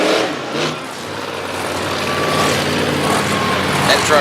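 At a monster truck event in Little Valley, New York, the Overkill Evolution monster truck's engine rumbles and revs in a broad, somewhat distant roar beneath an announcer's voice.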